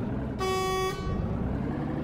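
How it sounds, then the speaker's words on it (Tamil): A single loud, sustained truck horn blast in Euro Truck Simulator lasting about half a second over a low rumbling engine drone. "அதுக்கு தான் ஹாரன் அடிச்சுட்டே நம்ம போயிட்டுருக்கோம்."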